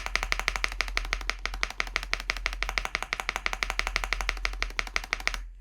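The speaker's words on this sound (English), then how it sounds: "that sound is a little bit more obvious when we slide across" Fingers slide back and forth across the spacebar of an ND75 mechanical keyboard, producing a rapid, continuous stream of close, even clacks in a steady rhythm, heard alone.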